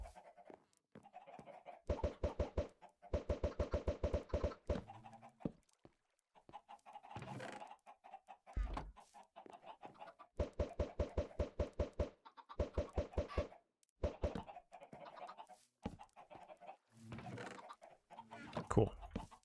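Chickens in the video game Minecraft cluck in repeated clipped bursts, loud and close, over a quiet in-game background.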